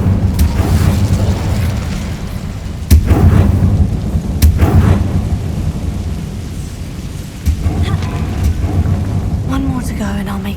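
Incendio fire spells blast in Hogwarts Legacy, several loud booming bursts with crackling tails over a rumbling game soundscape, with voices in the background.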